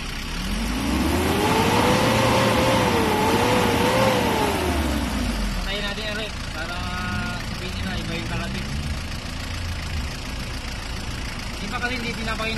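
A Nissan Urvan van's TD27 diesel engine revs up loud and close, swells and drops back, then settles into a rough, steady run with faint voices in the background.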